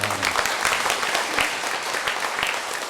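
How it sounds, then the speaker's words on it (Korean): A church congregation claps together in sustained, dense applause filling the room, with a few sharper individual claps standing out, at steady volume. "이분들에게 우리 큰 박수로"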